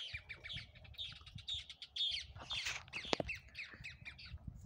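Birds squawk and chirp in the Brazilian sertão as rain arrives, with several calls overlapping in a steady, fairly faint chorus and one sharper cry near the end.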